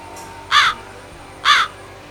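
Two loud, harsh crow caws about a second apart, standing out clearly against quiet background hum.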